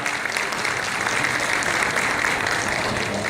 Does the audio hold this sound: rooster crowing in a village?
no